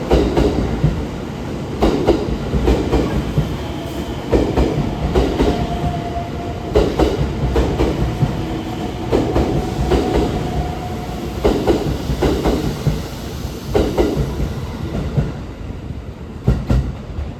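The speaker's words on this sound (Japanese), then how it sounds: "8時半ごろ、定刻の時間より1時間45分遅れてサンライズ出雲が出雲市に向けて出発していきました" The Sunrise Izumo sleeper train pulls out of a Japanese station, heading for Izumo-shi after a long delay, with loud rhythmic clickety-clack of wheels over rail joints rolling on continuously and up close.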